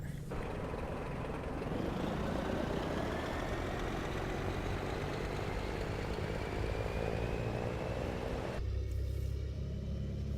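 A 530-horsepower DAF XF Euro 6 truck engine in Euro Truck Simulator 2 rumbles steadily at idle, a deep continuous drone that holds for several seconds before its tone shifts near the end.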